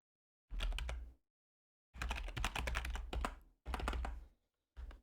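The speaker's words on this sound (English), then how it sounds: "I imagine typing things here still isn't going to do anything" Keys clatter on a computer keyboard while entering text into a puzzle game, close bursts of rapid typing separated by short pauses, with no voices present.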